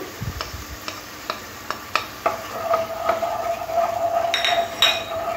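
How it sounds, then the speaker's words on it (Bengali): Spice masala and onion paste sizzle in a pan for a pointed gourd and prawn curry, while a spatula strikes and scrapes the metal in repeated sharp clinks over a low hiss and a faint sustained whine. "দিয়ে ভালো করে মশলাটা কষতে হবে, মশলা থেকে কাঁচা গন্ধ যাওয়া অবধি"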